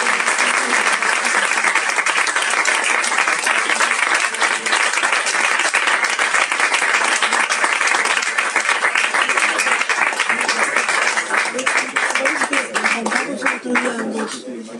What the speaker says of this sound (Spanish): un gran aplauso para Juan Gabriel.